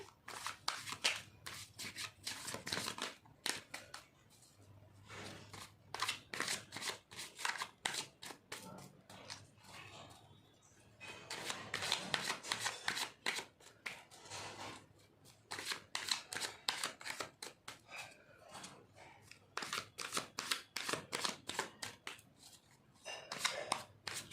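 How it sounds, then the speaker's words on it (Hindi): Tarot cards are shuffled close by in repeated bursts of crisp riffling and rubbing, separated by short pauses and with no talking. "तो हम पहले शफल कर लेते हैं।"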